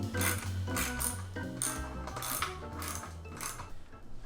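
A ratchet clicks repeatedly while tightening the headlight mount on a Super73 R e-bike, a loud, close series of metallic ratcheting strokes in a steady rhythm with no talk.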